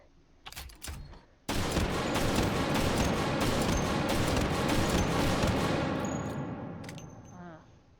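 Gunfire in the VR game H3VR: a couple of sharp shots, then a long loud sustained burst of rapid automatic fire with metallic ringing that tails off, close and dominant.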